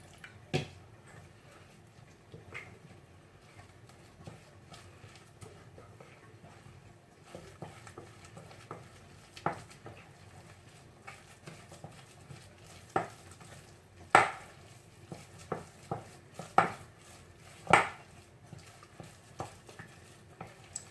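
Scraping and clinking of a spoon stirring thick egusi paste with water in a pot, irregular knocks growing louder and more frequent toward the end, with no talking.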